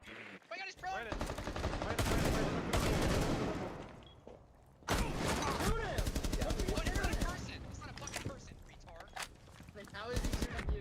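Rapid gunfire from the video game Rainbow Six Siege rattles in sustained loud bursts with brief gaps, mixed with voices talking over the action.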